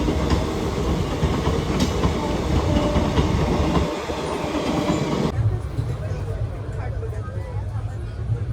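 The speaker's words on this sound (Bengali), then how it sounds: "এখন ট্রেন এসে পৌঁছালো কিষানগঞ্জ কিষানগঞ্জ স্টেশনে" The Sealdah–Jalpaiguri Humsafar Express rumbles and clatters on the rails as it pulls into Kishanganj station, loud and close, then the noise drops and thins out as it slows.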